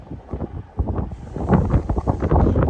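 Blizzard wind buffeting a microphone outdoors on a November street in Regina, a steady rough roar that thickens and grows louder partway through, with gusty rumbling throughout.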